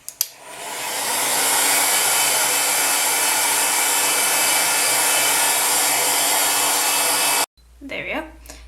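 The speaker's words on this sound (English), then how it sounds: "I've set my heat gun on the lowest setting that I can, and I'm going to put on a nice high wind pressure so we can blow this dry" A heat gun on its lowest heat setting with high airflow blows a steady, loud, close rushing whoosh for several seconds, then cuts off abruptly with a brief rustle after.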